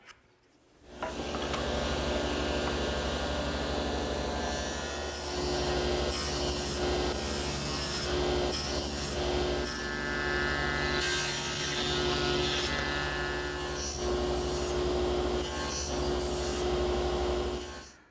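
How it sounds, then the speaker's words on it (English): Hand saw cutting shoulder cuts on a wooden tenon for a giltwood mirror frame, a steady, close rasping back-and-forth stroke that runs continuously for the whole stretch, no talk. "I'm going to make a shoulder cut here and here."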